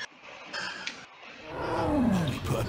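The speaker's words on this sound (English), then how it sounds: "Bloody tiger in my car." A tiger roars inside a car in the video game Saints Row The Third, a loud, close growling roar that swells in the second half after a brief faint start.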